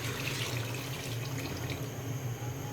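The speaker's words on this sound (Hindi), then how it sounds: "तो 3 कप के करीब इसमें पानी जाएगा" About three cups of water pour steadily into a cooking pot of beef haleem, a continuous close splashing rush at moderate volume.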